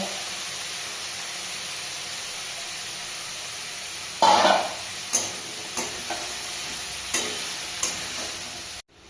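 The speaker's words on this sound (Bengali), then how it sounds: "আলুটা একটু ভাজা হয়ে গেলে" Potatoes fry with a steady hiss in an oiled pan, then a louder burst as food is stirred in, followed by several spaced scraping strokes of a spatula.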